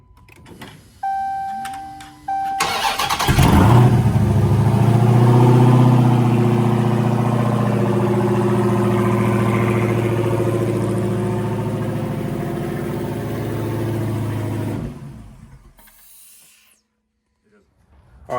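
A Hellcat V8 from a Dodge Charger SRT, swapped toward a Chrysler 300 and mounted on a shop pallet, cranks and fires, then settles into a loud, steady, rumbling idle for over ten seconds before shutting off.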